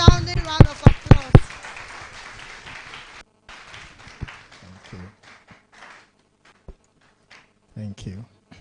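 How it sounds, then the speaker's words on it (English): An event audience applauds the keynote speaker, opening with several loud, sharp handclaps close by and then thinning into sparse, quieter claps and shuffling over the following seconds. "let's give him a sounding round of applause"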